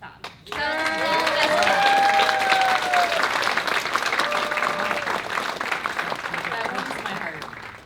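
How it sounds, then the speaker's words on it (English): Audience at a Power Rangers Wild Force fan panel bursts into sustained applause, a dense close wash of clapping that swells quickly and tapers slowly, with a voice speaking over the start. "I want everyone to give her a round of applause for Jessica"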